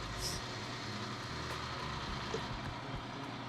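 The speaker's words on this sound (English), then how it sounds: "And this is the bus that's going to take us there." A tour bus engine rumbles steadily in the background near Plitvice Lakes National Park in Croatia, a constant low idling drone with ambient outdoor noise and no talk.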